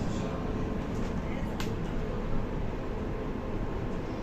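Steady rumble and rush of a moving train ride in Nuremberg, aboard a variant with a driver's cab, an even broadband roar of wheels and motion continuing throughout with a brief brighter squeal midway.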